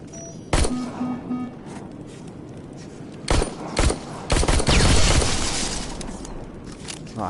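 Gunshots ring out in Terminator Resistance: a sharp single shot early, a pause, then a few spaced shots followed by a dense burst of rapid fire that trails off, loud and close.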